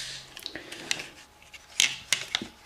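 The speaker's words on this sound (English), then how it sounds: "with the big side of the punch down tool towards the middle there, we're going to push that down and it's going to click when it gets into place" A punch-down tool seats a wire into a BT master phone socket front plate, giving a few sharp, close clicks spaced unevenly over a couple of seconds against a quiet background.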